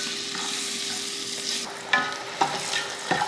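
Eggs frying in a pan on a low flame with turmeric, chili powder and salt for egg biryani, a gentle steady sizzle broken by several sharp stirring scrapes toward the end.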